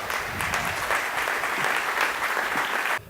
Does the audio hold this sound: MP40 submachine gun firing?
no